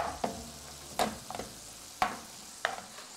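Ground meat for lasagna sizzles in a pan under steady, close frying hiss, broken by a few sharp scrapes and knocks of a utensil stirring it at irregular intervals, with no talking.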